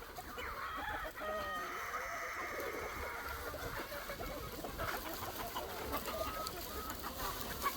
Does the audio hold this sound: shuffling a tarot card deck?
no